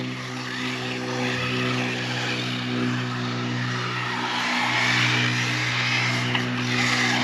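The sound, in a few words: Arrma Typhon RC car driving on track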